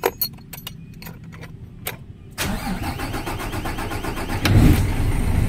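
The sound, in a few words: Isuzu 6WG1 truck engine starting with one click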